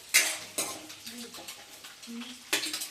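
Halved boiled eggs being fried in a pan for egg curry, with several sharp scraping and clinking stirs of a utensil against the pan over a soft, steady sizzle.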